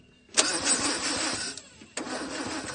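A Land Rover Series 2 farm find being cranked over: a sudden loud starter burst, then a rough whirring turnover that drops out briefly before cranking resumes, close by.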